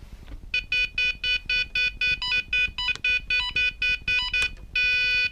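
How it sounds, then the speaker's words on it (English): EuroSec CP8L alarm control panel buzzer sounding as the front door opens, a rapid series of loud, evenly pulsed electronic beeps, close and steady throughout. "Open the front door, the buzzer will sound."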